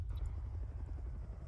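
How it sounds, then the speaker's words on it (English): Helicopter in the Arma 3 military video game, a steady low rotor rumble and drone filling the whole clip at moderate distance, with no talk over it. "helicopter to our east."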